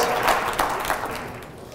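A large crowd at a LinkedIn meetup in Montreal claps in a dense, even burst that fades slightly toward the end, heard fairly close and without talk.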